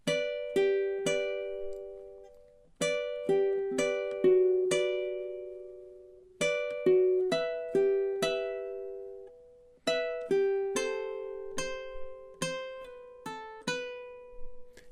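A ukulele alone plays measures 5 to 8 of The Office theme, plucked notes and strummed chords in a bright, bouncy rhythm, each note ringing and fading, with brief pauses between phrases.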